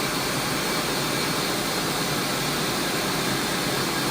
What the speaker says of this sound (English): We've got our motor running